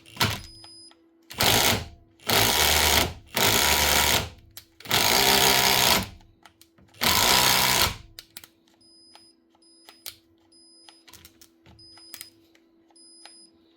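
A rusty, stiff Metabo SSD 18 LTX 200 BL cordless impact driver, clamped in a vise and running poorly, gives five loud, close bursts of rattling whir, then falls quiet apart from faint clicks.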